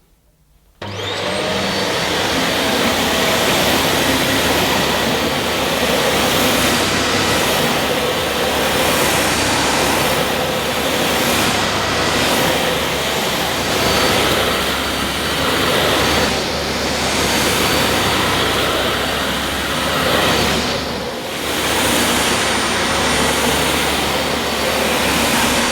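A Dyson Airmuscle DC28 vacuum cleaner runs continuously on a hard floor, a loud, steady whine and roar that starts abruptly and holds for the whole stretch with slight fluctuations as it moves.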